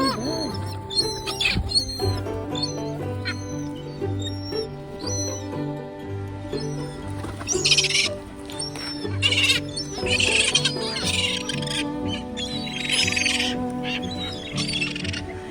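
Many birds, pigeons and ducks among them, call near the water in a busy, overlapping chorus of squeaks and cries that runs steadily throughout at close to moderate range.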